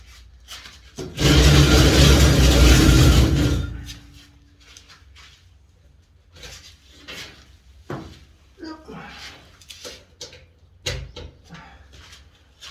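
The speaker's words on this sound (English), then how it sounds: "I'm going to grind them into a round shape" A grinder shapes a sjambok into a round profile in a workshop, giving a loud, dense abrasive roar for about three seconds, then quieter scattered knocks and handling noises follow.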